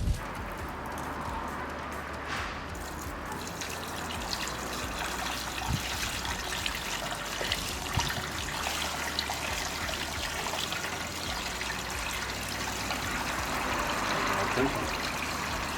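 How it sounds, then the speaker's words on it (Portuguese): Water from a hose runs steadily into an electric cutter's water tank to rinse out sediment, a continuous close hiss and trickle that holds at an even level throughout. "esvaziamos e limpamos com uma mangueira de água a correr, de maneira a eliminar todos os sedimentos"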